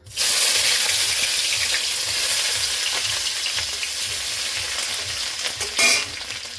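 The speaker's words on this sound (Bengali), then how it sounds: "তেল গরম হয়ে গেছে, রসুন আর কাঁচা লঙ্কাটা দিয়ে দেবো।" Garlic and green chili sizzle loudly and steadily in hot oil for ghugni, with stirring scrapes throughout and a brief surge of crackle near the end.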